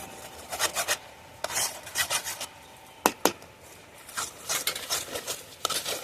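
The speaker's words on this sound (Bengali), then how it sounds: "দিয়ে এবারে সব একসঙ্গে ভালো করে নেড়ে নেব।" Milk and flour mixture being stirred in a pan for a gujiya sandesh sweet, with a utensil scraping and rasping repeatedly against the pan bottom in uneven bursts, close and moderately loud, with a few sharper knocks.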